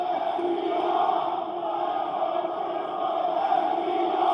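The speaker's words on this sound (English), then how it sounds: "I want you to listen to this crowd right now" Crowd at a Ring of Honor Death Before Dishonor 2022 wrestling event roaring steadily with cheers and shouts, a dense continuous wall of voices with no clear breaks.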